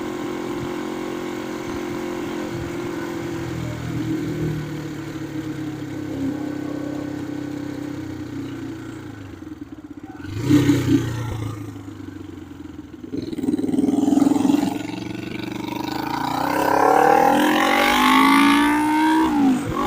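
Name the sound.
1972 Honda CB450 motorcycle engine while riding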